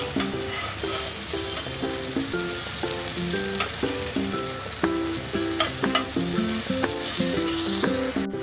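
Okra frying in a pan over low gas, a dense continuous sizzle and crackle with occasional stirring clinks and pops, close and steady throughout, with no voices.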